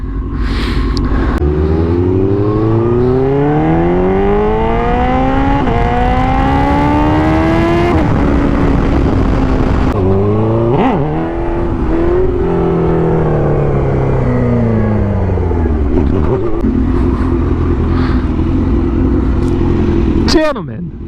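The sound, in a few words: turbo hatchback car engine revving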